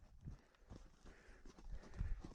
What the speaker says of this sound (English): So right now I'm riding this horse forward